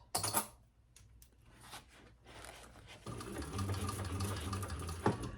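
A sewing machine named Thor stitches a narrow seam on a Ciana crossbody bag, its stitch length set to about 4, starting with a few scattered clicks and then whirring in a steady close run.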